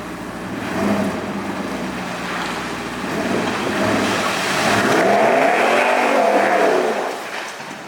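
A deleted 6.7 Powerstroke diesel pickup with a steel body drives by, its engine droning and rising in rough surges with a brief wavering whine near the end, fairly close and loud.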